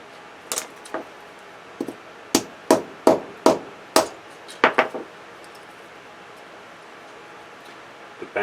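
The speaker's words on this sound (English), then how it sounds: "bang it off with a hammer." A hammer bangs the contacts off a scrap relay, about a dozen sharp metallic strikes in irregular bursts, some in quick pairs, close and loud against a quiet workshop background.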